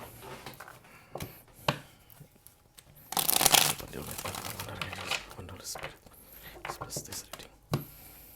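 Tarot cards are shuffled and handled close up in quick riffles and soft slaps, with a denser burst of shuffling midway, while a voice speaks quietly over it.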